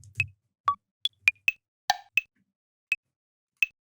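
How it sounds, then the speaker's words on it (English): Clave percussion samples auditioned one by one in Ableton: about nine short, dry, bright wooden clicks at irregular spacing, with clean silence between hits. "just search for clave, let's see what we got"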